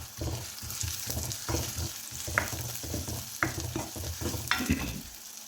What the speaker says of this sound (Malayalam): എല്ലാം കൂടി ഇട്ട് കൊടുത്തൊന്ന് വഴറ്റി കൊടുക്കാം.